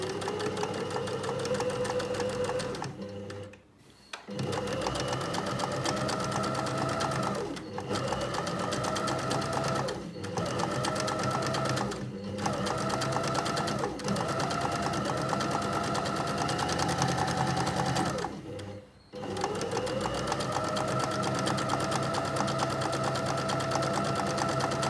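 A sewing machine runs in long, steady bursts while stitching a seam on a reversible tote bag, its close mechanical hum pausing briefly a few times before starting again.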